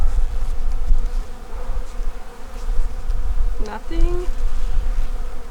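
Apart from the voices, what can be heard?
bees buzzing in a beehive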